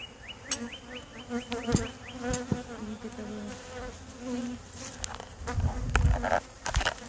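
Honey bees buzz steadily at a hive, a dense close drone with individual insects passing near, plus a few sharp clicks and handling knocks toward the end.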